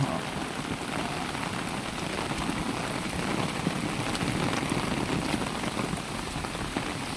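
Steady rain falling outdoors during a trip in the Philippines, a dense continuous patter of drops on surfaces, fairly close and even in loudness, with no talk heard.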